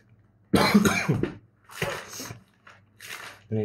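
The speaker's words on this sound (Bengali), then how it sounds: "গত 2-3 দিন ধরে আমার প্রচণ্ড কাশি" A person suffering a heavy cough for several days coughs in close, harsh bursts, one strong fit followed by a few shorter, weaker coughs, with no speech.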